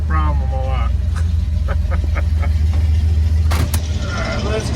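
An old, cold-natured car engine with a choke that isn't hooked up idles loudly and steadily, a deep continuous rumble throughout with brief clatters and a voice over it.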